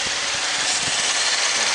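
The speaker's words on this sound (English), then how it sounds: "There's our big 3 litre V6." A VE Holden Commodore 3.0 litre V6 engine (LFW) runs at an auto parts yard, giving a steady, even mechanical drone with faint low thumps throughout.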